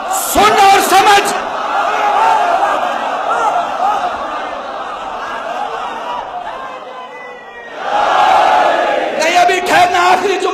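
A crowd at a Shia religious gathering with Maulana Kalbe Rusheed Rizvi in Jogipura, Uttar Pradesh, raises loud massed chanting and shouting at the start, sinks into a sustained murmur, then swells again near the end.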